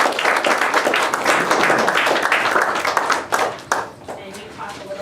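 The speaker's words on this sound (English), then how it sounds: "let's give Logan a round of applause as he comes up here" A room full of people claps steadily in loud, dense applause at a community program, the sound holding strong before thinning out toward the end.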